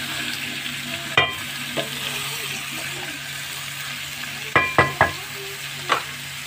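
Chicken bhuna frying in a pot: a constant soft sizzle with a low hum behind it, punctuated by a handful of sharp spoon-on-metal clanks, clustered near the end, no talk.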